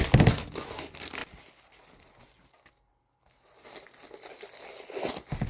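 Plastic packaging for sound booth materials is cut open and unwrapped, with a loud crinkling burst at first, then a short near-silent pause, then softer rustling that builds again.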